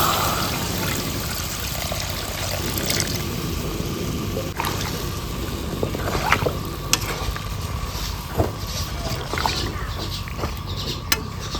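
Water pours into a pan of sizzling fish curry, producing a loud, steady hiss and bubbling wash with occasional clinks and stirring knocks, close by and without talk.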